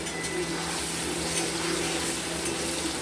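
Paneer frying lightly in a pan, a steady sizzle that holds even and fairly loud throughout with no talk.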